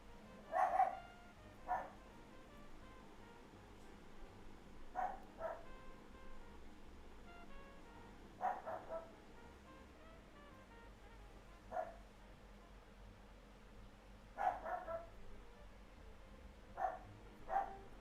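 A dog barks in short bursts inside a faerie murder-mystery video game, several separate barks spaced every few seconds at moderate distance over a quiet ambient background.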